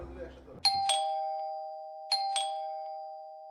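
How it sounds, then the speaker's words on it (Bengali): Doorbell rings twice in a two-note ding-dong chime, loud and close, each tone ringing out and decaying slowly, after brief low background murmur. "কলিং বেল দিচ্ছে"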